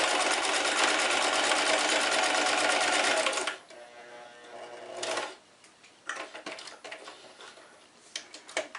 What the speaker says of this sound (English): here you will want to backstitch right at the beginning